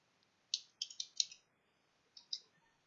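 Keys on a computer keyboard clack in two short clusters of quick, crisp clicks, close and quiet in an otherwise silent room.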